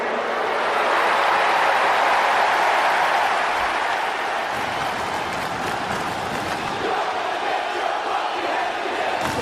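Arena crowd in the WWE 2K23 wrestling game roaring and cheering steadily for a women's championship match, a dense, loud, continuous wall of screams and noise with no letup.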